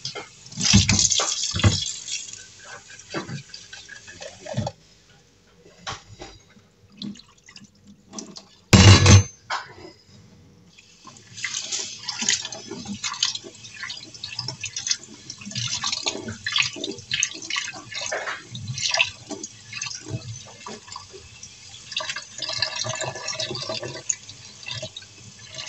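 Tap water running and splashing while plastic fridge containers are rinsed at a sink, with clattering of containers and drips, intermittent over about twenty-five seconds, close by.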